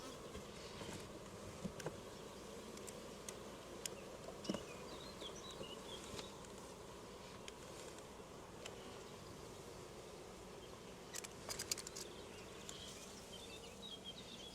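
Honeybees in a hive during a check on newly introduced queens give off a faint, steady, low hum, with occasional soft ticks and patters over it.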